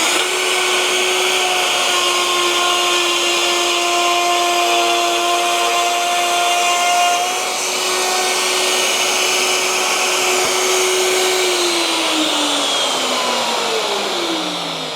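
A wood router hums at high speed throughout, loud and close, as it takes a very shallow pass in wood, its steady whine dipping slightly and winding down near the end, with no talking.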